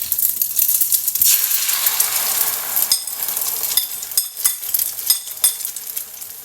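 Beaten egg hits a very hot oiled pan for Thai scrambled egg, sending up a loud, close crackling sizzle with sharp pops and scraping stir noises over several seconds, without speech.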